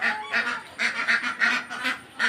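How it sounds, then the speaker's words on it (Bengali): A flock of about 37 ducks on a small duck farm in Bangladesh calls in rapid repeated honking quacks, close and fairly loud, with no talk over them. "হাঁসের ডাক শুনলে এমনিতেই সবারই ভালো লাগে।"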